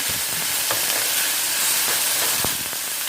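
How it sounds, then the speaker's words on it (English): Pork fried rice sizzles and fries in a pan while being stirred, a steady hiss with scattered scraping clicks from the utensil, close and alone with no talk. "So now it's just a matter of stirring everything up and making sure it's brown."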